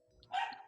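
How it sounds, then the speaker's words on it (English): A single short, sharp dog bark close to the microphone, loud and alone, with no one speaking. "I just unmute myself and my dog wants to bark"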